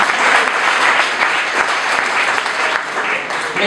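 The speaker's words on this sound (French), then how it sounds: "Applaudissons très fort pour mon parti" Sustained applause from a wedding ceremony audience, a dense, steady clatter of many hands clapping throughout at fairly close range.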